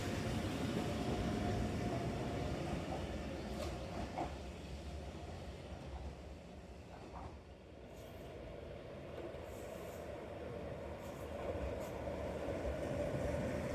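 Eizan Line trains roll beneath a footbridge in Kyoto on a hot day, a steady broad rumble of wheels and cars filling the whole stretch at moderate distance, with faint brief squeals and clacks along the way.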